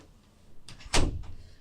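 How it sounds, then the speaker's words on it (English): A room door is swung shut indoors, a soft scrape of movement followed by a single firm close-up thud with a short rattle after it. No one talks over it. "And then let me shut this door."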